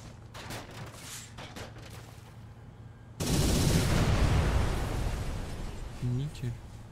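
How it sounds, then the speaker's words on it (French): Gunfire in the video game Project Landsword starts as scattered distant shots and then erupts into a loud, sustained barrage of rapid fire and blasts that fades slightly toward the end, with voices talking over it. "arrête de tirer sur mes caisses de munitions"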